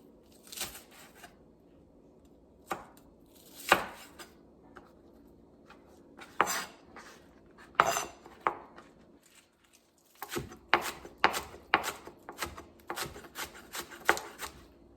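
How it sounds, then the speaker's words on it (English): A knife slices the white part of an onion into fine strips on a cutting board for a ginger and onion dipping sauce. Quiet, scattered thuds and scrapes come in irregular bursts, then a quicker run of cuts near the end. "with the white part, I'll slice it into a finer strip so that it helps me with when I have to chop it fine"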